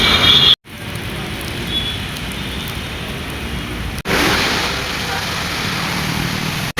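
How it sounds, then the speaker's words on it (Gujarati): Rain falling steadily while people wait under cover at a bus stop, a dense continuous hiss and patter close by, broken by a couple of abrupt cuts. "વરસાદ ચાલુ થઈ ગયો છે"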